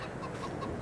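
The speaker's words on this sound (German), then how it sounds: "Da haben wir unsere Hühner." Farm chickens in Farming Simulator 22 cluck softly in a short burst of repeated low clucks, faint and close, with no talking.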